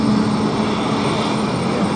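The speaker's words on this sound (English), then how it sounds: "Should let that VA jet go." A Virgin Atlantic jet at London City Airport gives a steady, loud, continuous engine roar with no breaks, heard alone.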